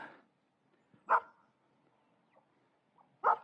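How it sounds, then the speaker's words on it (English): A dog on a small farm barks in short single woofs, three sharp barks spaced about a second or two apart, fairly close and loud against quiet background. "He barks when he's near us."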